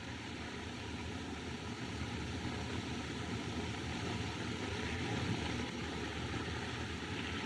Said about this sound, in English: Ah, plane. Probably making a forced landing.